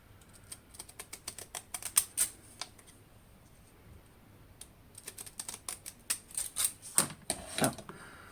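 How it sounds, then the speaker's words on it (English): Rapid, crisp clicking snips from decorative postage-stamp-edge scissors cutting paper up close, in two bursts separated by a short pause, no talking. "with my kind of postal stamp scissors, with the decorative scissors there."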